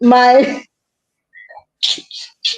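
A single sharp human sneeze bursts out close by at the start, followed by brief quiet and then a few soft voiced sounds from people nearby.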